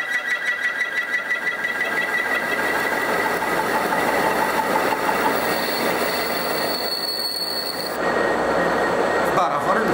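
Metal lathe cutting an internal counterbore dry without coolant in a single pass, a steady continuous machining whine and grinding drone throughout, fairly loud and close with no talk over it.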